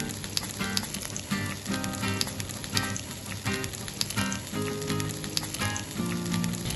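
Lamb chops with bruised garlic sizzle steadily in a hot frying pan, a dense, continuous crackle and spit up close with no voices.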